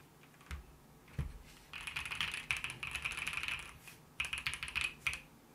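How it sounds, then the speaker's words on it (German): Typing on an Epomaker EK68 mechanical keyboard with linear switches, bursts of rapid clacky keystrokes with a couple of single heavier presses first and a short pause midway, close and moderately quiet with no talking. "Die Tastatur klingt out of the box auch schon wirklich gut, muss ich sagen."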